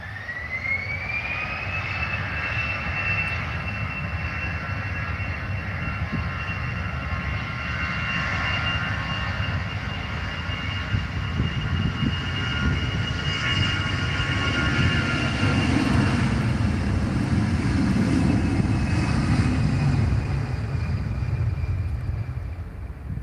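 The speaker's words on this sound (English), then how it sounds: "got another Scandinavian just taxiing there, so another A320 Neo." An Airbus A320neo jet taxis at Tenerife airport, its steady engine whine and rumble holding for over twenty seconds at moderate distance, growing slightly louder later.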